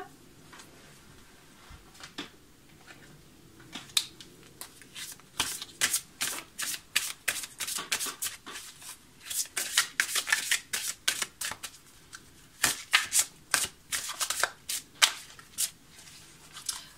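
Tarot cards are shuffled by hand for a reading, in quick bursts of crisp riffling and slapping at close range, with short pauses between runs and no talking.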